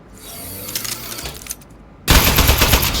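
An Aperture Science Turret fires in Aperture Desk Job. Some mechanical clicks and whirring build up first, then a loud, sustained rapid-fire burst of gunfire takes over for the final second.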